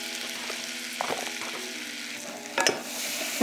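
Flour gets stirred into melted butter in a pan, with a soft, steady sizzle and a few scraping strokes, one sharper clack near the end.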